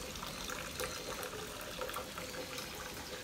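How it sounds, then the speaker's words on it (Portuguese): Water runs steadily while laundry is rinsed and put into a bucket, a continuous splashing gush with small spatters, close and fairly loud, no voices. "Aí vou enxaguar e botar no balde."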